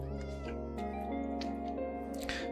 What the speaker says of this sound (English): Hear a cat.